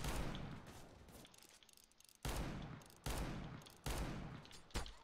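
Gunfire in the video game Counter-Strike: Global Offensive, several loud bursts of rapid shots that start abruptly in repeated volleys, with quieter gaps between, close and punchy.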